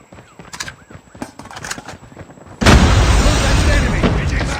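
A grenade blast in a tactical shooter game erupts as a sudden loud, broadband explosion that sustains a roaring rumble, following a stretch of game sounds and voice chatter.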